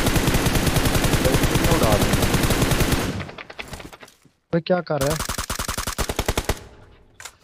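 Rapid, loud automatic Uzi fire in PUBG Mobile, close and sustained for several seconds, then stops. Scattered bursts and footstep-like clatter follow, with a player talking.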